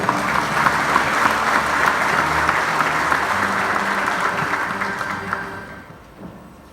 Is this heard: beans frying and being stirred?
no